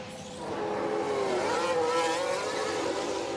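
Formula 1 cars in the F1 Manager 22 racing game pull out of the pits during Melbourne qualifying, a loud steady engine drone whose pitch climbs and sweeps as the cars accelerate away, with no talking.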